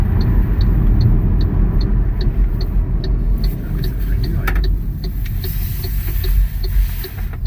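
An MG4 electric car drives along with a steady low road rumble and tyre noise filling the cabin, a faint regular ticking indicator sounding above it and brief clunks partway through.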